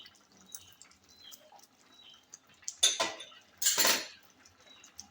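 Pilaf with raisins, cashews and fried paneer being stirred gently with a metal spoon in a pot: a few soft scrapes and clinks, then two louder bursts of scraping and shuffling near the end, no talking.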